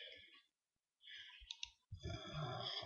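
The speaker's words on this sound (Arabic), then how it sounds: "تعالى كده نعمل رايت كليك" A computer mouse gives a couple of crisp, quiet clicks between stretches of near-silence, with someone talking in Arabic around them.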